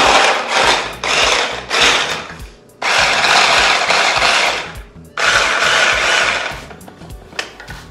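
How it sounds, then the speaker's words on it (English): A hand blender pulses garlic cloves in short bursts. It gives three loud, buzzing whirs of a few seconds each, with brief gaps between them and small stutters within each burst, close and alone. "we're going to take a little hand blender like that"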